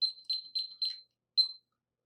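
A kitchen timer beeps during a keto Cajun-style chicken wing cook, giving four quick high-pitched beeps in a steady rhythm, then a pause and one more beep. The tones are clear and close, with no talking.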